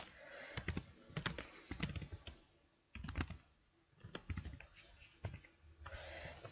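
Clicky keystrokes on a computer keyboard arrive in short bursts and scattered taps, close by, while new parameters are typed into thermal simulation software, with quiet pauses between runs.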